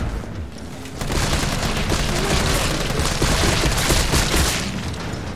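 Rapid video-game gunfire rattles loudly and continuously, a dense volley of overlapping shots and booming impacts lasting several seconds before easing off, with no talking.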